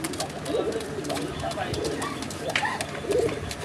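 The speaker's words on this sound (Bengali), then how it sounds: "আমরা চাচ্ছি যে আমাদের দর্শকরা এই কবুতর ডাকটা শুনুক বা সাউন্ডটা শুনুক" A pair of red bar Rajgolla pigeons coo in soft, repeated low rolling calls, close but quiet against a faint hiss of background noise.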